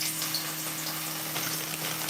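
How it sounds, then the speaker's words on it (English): Sopes dropped into hot frying oil give a steady, close crackling sizzle with fine popping bubbles throughout, with no talking. "we are going to add the sopes to the frying area."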